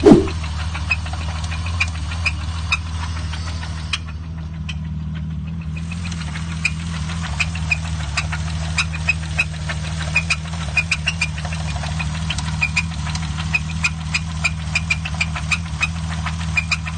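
A damaged BMW E30 engine idles with a rapid, steady knocking tick over a low rumbling hum, close and continuous throughout.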